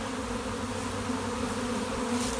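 A honeybee swarm clustered at rest gives off a dense, continuous buzzing hum, close and steady with a low droning tone, and no voices over it.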